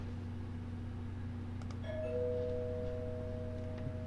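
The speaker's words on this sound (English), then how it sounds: "it wasn't long before the doorbell rang" A two-tone doorbell chime rings in a video game, a clear ding followed by a sustained second tone that fades slowly over a steady low background hum.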